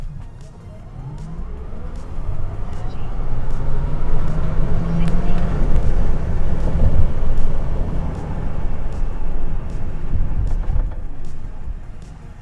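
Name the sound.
Tesla Cybertruck AWD launching hard in a 0-60 run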